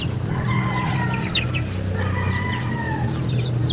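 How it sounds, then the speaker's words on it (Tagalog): Free-range chickens in a walled yard cluck and chirp continuously, with rooster crows rising out of the mix, all over a dense outdoor backdrop of many overlapping bird calls. "Ating mga manok."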